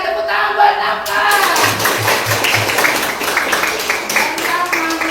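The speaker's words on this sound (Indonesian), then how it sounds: "tepuk tangan buat Napla" A class of students clapping their hands in a classroom, a loose burst of many claps with some sharper taps, mixed with voices and room chatter throughout.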